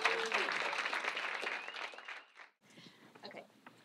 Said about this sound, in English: Let's get that round of applause going for our first presenter.